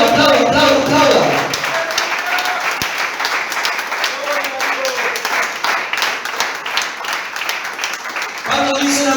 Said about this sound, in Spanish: Aplauda al que vive en esta noche. Aplauda, aplauda, aplauda, aplauda.